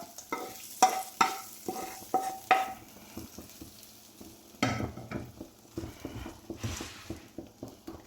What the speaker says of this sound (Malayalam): അതിനുശേഷം നമുക്ക് ഫ്രൈ ചെയ്തെടുത്ത മീൻ കഷ്ണങ്ങൾ ഇട്ട് കൊടുക്കാം